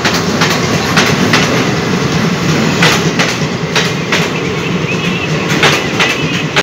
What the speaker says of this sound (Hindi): थोड़ा सा ट्रेनों का सीन देखे मुझे